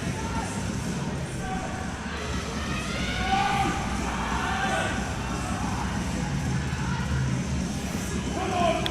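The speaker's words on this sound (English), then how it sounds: "The crowd getting behind him already." A crowd at the Australian powerlifting nationals cheers and shouts encouragement for a lifter's squat attempt, a rising babble of voices and claps that swells in the middle and holds at moderate loudness.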